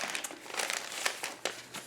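Paper bag crinkling while being folded and handled on a junk journal page, a close, continuous dry rustle broken by several sharper crackles, with no voices.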